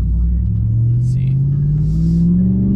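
A truck's engine accelerates hard, a loud steady rumble with a rising pitch through the whole stretch, with a voice talking over it.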